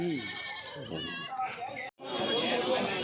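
Goats bleat at the Kadiri livestock market, a few wavering, nasal calls close by amid market chatter and people talking.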